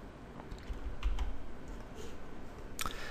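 A few light keystrokes on a computer keyboard, including an F6 key press, click at close range over a low background hum, with one sharper tap near the end.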